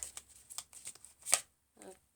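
Archangel Raphael healing oracle cards are shuffled close by in a quick run of crisp riffling flicks and taps, ending in one sharp snap and a softer final shuffle, with no talking.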